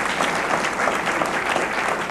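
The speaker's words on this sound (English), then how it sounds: "All right, and we can applaud for that." Steady applause from a crowd, dense clapping continuing evenly throughout at a moderate loudness.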